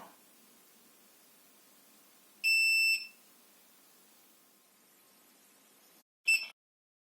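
A handheld alcohol breathalyzer beeps after a too-short blow: one half-second beep, then a quick second beep after a quiet pause, over faint background hiss.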